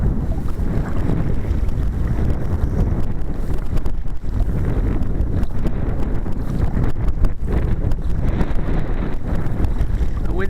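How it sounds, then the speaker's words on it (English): Wind blows steadily at sea around a Moken 10 Angler kayak, with continuous rumbling buffeting on the microphone and water sloshing against the hull. "The wind's getting up a little bit"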